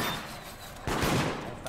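Video game gunfire at targets: a steady wash of rapid shots, then a louder, denser burst of firing partway through, close and continuous with no talking.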